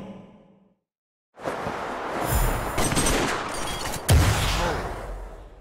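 The crescendo bullet skill in the Mobile Legends: Adventure game fires a loud, sustained barrage of shots that swells after a brief pause, peaking with a heavy impact near the end.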